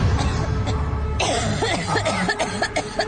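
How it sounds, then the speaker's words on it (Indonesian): Repeated coughing just outside a bedroom door in an Indonesian horror story, several short close bursts over a low rumbling background. "suara orang batuk itu tepat di depan kamar tidurku."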